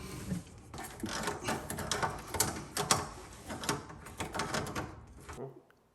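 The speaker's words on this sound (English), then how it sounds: "We're going to tighten this brass nut, and it's going to pull it all together and make it watertight." Brass drain nut being tightened under a bathroom vanity sink, a run of small metallic scrapes, clicks and knocks close by, continuous for several seconds with no talk.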